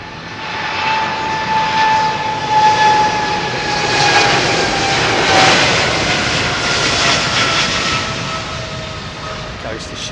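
Jet airliner taking off from runway 27R at London Heathrow Airport, a loud steady engine roar with a high whine that swells and fades over ten seconds, heard from outside at a distance.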